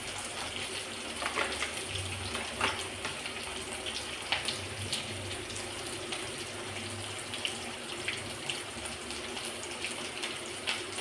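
Water poured into a pan of fried onions while making upma, a soft steady trickle and gush running under faint kitchen clatter, fairly quiet and close.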